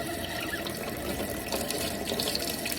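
Tap water runs steadily into a sink for hand washing before a medication draw-up, a continuous close splashing hiss at moderate loudness with no voices over it.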